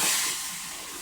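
Butter hisses in a hot pan while liver cooks. The hiss is bright and steady and lasts about a second, strongest at the start and easing slightly after.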